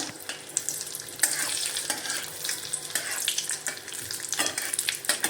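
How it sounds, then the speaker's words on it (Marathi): Cashew and almond pieces sizzle and crackle as they roast in a pan for carrot halwa, with a steady hiss and occasional stirring scrapes, close and continuous, no voices. "आपण काजूचे तुकडे टाकूया बदामाचे तुकडे टाकूया हे परतून घेऊया"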